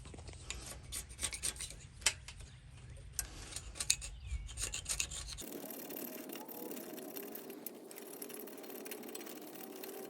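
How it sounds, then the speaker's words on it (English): Dull knife scraping stickers off a motorized bike frame, a close, gritty rasping in quick repeated strokes that turns into a steadier, smoother scrape partway through; no talking. "I use kind of a dull knife like that. It's not real sharp so that you can just scrape on stuff"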